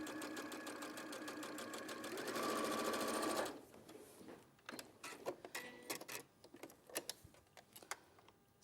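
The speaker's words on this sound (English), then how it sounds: "sewing machine," A sewing machine stitches a seam in a fast, even whir for about three seconds, then stops, followed by scattered clicks and handling noises from the machine and fabric.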